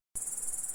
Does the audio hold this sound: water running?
no